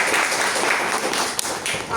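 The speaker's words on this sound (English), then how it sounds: "Big round of applause." An audience at a Toastmasters club meeting applauds in a steady, dense wash of clapping that holds for about two seconds, fairly loud and close, with one sharper clap near the middle.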